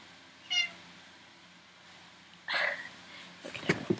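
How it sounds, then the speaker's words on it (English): A pet cat meows indoors: a short meow near the start, then louder, longer meowing calls with more vocal sounds toward the end, close to the listener and with no talking. "My cat's a talker."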